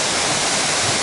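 A waterfall at the Cascades in Australia, heard on a road trip, gives a loud, steady rush of falling water that fills the whole moment with unbroken, even noise.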